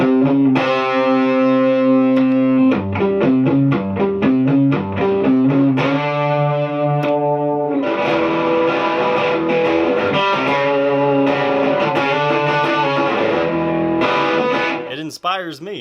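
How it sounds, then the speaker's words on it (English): A 47-year-old hornless Gibson SG electric guitar played through heavy distortion, ringing sustained chords and chugging rhythmic strums for the whole stretch, loud and close with a murky grunge tone, ending in a brief scrape. "it's kind of more of a mellowy grunge tone as far as what I get when there's some distortion"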